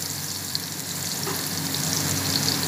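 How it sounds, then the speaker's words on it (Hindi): Ginger and garlic paste fries in a pan with a continuous soft sizzle, close and even, with a faint tap or stir now and then. "ये 2 चम्मच लहसुन अदरक के थोड़ा सा फ्राई करके मैं इसमें चिकन डाल दूँगी"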